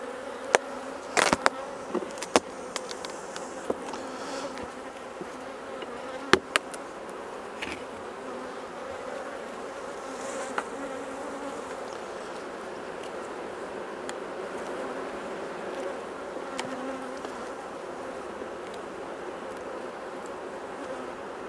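A dense, steady hum of many honey bees buzzing close by at a hive during a Bailey comb change, with occasional sharp clicks and taps over the drone.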